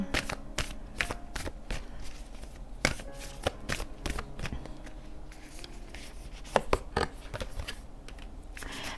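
Oracle cards being shuffled by hand at close range, a busy run of crisp riffling flicks and soft taps in uneven bursts, with no speech.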